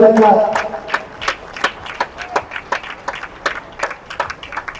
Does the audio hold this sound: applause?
yes